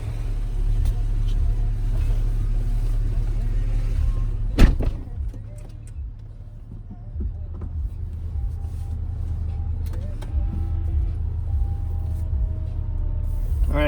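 Porsche 911 on the road with freshly fitted Girodisc brakes, a steady loud engine and road rumble throughout with a sharp knock near the middle.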